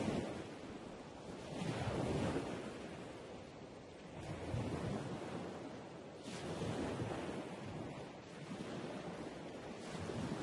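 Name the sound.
sea waves at the walls of Qaitbay Citadel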